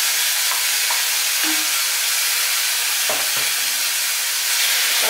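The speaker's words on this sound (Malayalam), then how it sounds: "ഇവനെ രണ്ടിനെ കൂടെ നമുക്ക് നന്നായിട്ട് അങ്ങോട്ട് വഴറ്റിയെടുക്കണം." Ripe tomatoes sauté in a hot pan for tomato chutney, giving a loud, constant sizzling hiss with a few faint stirring knocks. A single word is spoken briefly.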